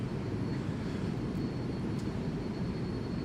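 Steady low drone of a King Air 350 turboprop taxiing in Microsoft Flight Simulator 2020, a constant engine rumble with no variation over a few seconds.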